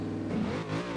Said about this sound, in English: This insane vehicle to get the revs up.